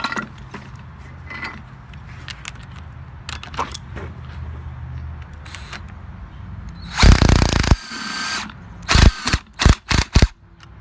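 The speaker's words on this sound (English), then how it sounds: "you're gonna finish it up by using the impact to tighten it" Pneumatic impact wrench tightening the nut on a rear shock of a 2004 Nissan Maxima 3.5L, heard as several loud rattling bursts near the end, one long and then a quick run of short ones, after quieter workshop handling noises.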